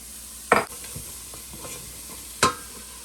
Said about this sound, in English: Saute for about 5 minutes.